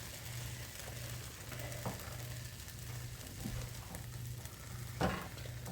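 Beans and rice with cheese being stirred in a pot on a stovetop, a steady soft sizzle with scraping spoon strokes and occasional clinks against the pot, close and moderately quiet.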